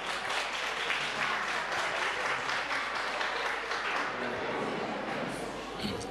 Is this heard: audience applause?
yes